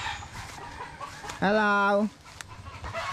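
A native chicken lets out one loud, drawn-out call lasting about half a second, close to the recorder, amid outdoor background noise with a brief spoken greeting nearby.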